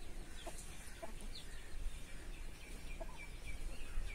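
Chickens in a country chicken shed cluck softly and sporadically in short, faint calls over a constant background hiss, with no talking.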